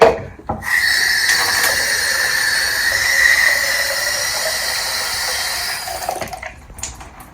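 A steady stream of water pours into a rabbit fodder-growing container for several seconds, with a bright rushing hiss, then trails off.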